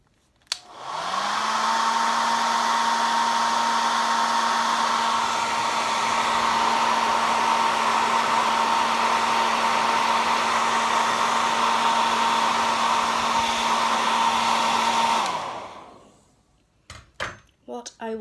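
Hair dryer blowing on a damp craft project, switching on and running at a loud steady whine for about fourteen seconds before cutting off, followed by a few small clattering handling noises.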